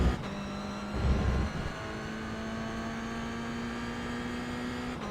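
A Toyota GR86 at full throttle in iRacing: a steady, sustained engine drone holding high revs throughout, with a brief louder surge early on and no talk.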